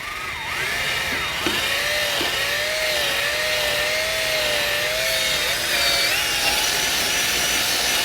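A fine scuff ball kept lubricated is rubbed gently over Jeep Grand Cherokee wheels, making a continuous close scrubbing hiss with a thin wavering squeak running through it and no talk.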